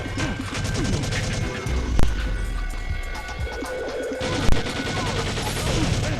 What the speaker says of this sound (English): now, we fight the General, who has a minigun